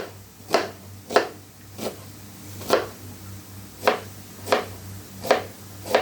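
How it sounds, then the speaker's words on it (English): A knife chops an onion on a board in slow, evenly spaced strokes, about eight crisp cuts over a steady low hum. "You're chopping the onion."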